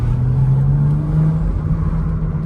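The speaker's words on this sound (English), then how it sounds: "I'm gonna pick you all up so you guys can hear some, you know, some pipe noises" Stage 2 tuned BMW 235i exhaust droning loud and close while driving, a steady low rumble with a slowly rising tone as the engine pulls, continuous with no talking.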